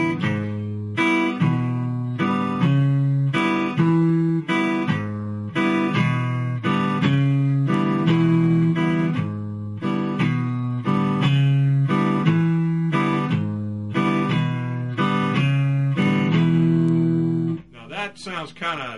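A guitar shuffle played slowly, with a palm-muted bass line alternating with open-string upstrokes in an even, repeating pattern, close and prominent throughout, stopping near the end.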